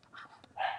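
A pet dog barks in a home during a calculus lesson, giving a short soft yip and then a louder bark, brief and a little distant, with no voices.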